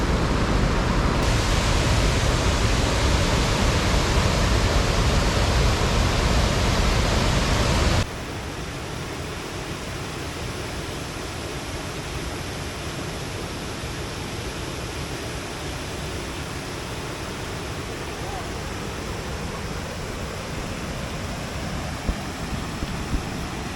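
Aysgarth Falls in Yorkshire pours over rock ledges with a loud, continuous rushing roar. The sound holds steady throughout and is heaviest in the first few seconds before settling to a slightly softer constant wash.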